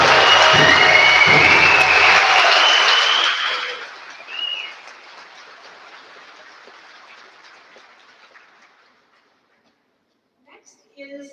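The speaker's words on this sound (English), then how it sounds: "give a huge round of applause for all of our graduates" Loud applause and cheering from a graduation ceremony crowd fill the first few seconds, then thin into scattered clapping that fades to near silence, with a brief faint sound at the very end.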